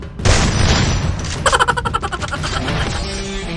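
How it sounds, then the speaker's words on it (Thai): A loud booming grenade explosion in Free Fire, followed by rattling, crackling debris and a lingering rumble that slowly fades. "บึมปาระเบิดไปก่อนครับปาดักปาดัก"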